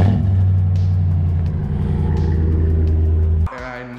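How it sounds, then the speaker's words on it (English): A truck engine breathing through a Flowmaster Super 44 exhaust gives a deep, close, loud rumble that holds for about three and a half seconds, then drops off abruptly into a quieter idle. "truck has a Flowmaster Super 44 exhaust system on it, so it's got a little bit of a grumble"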